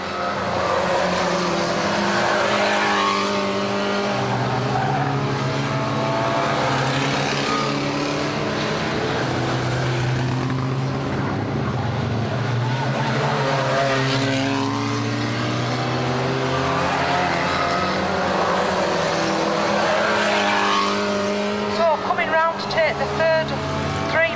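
Stock cars racing around an oval track at a club meeting, engines droning and rising as they pass, steady loud roar throughout with a commentator talking over it.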